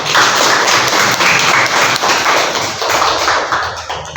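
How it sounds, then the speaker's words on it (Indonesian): Pupils in a classroom clap together, a loud, dense burst of applause that stays steady for several seconds with a few heavier thuds mixed in. "Ya, tepuk tangan."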